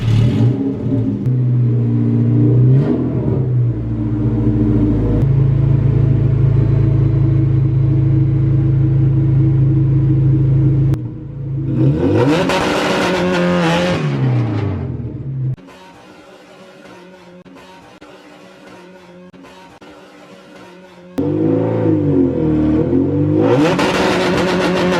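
A front-wheel-drive hatchback launches hard from a rumbling idle, its engine revving up loudly through rising gear pulls, then falls quiet before a second loud acceleration run; no voices.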